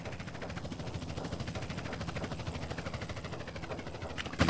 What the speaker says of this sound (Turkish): Dostum helikopter tekrardan burada.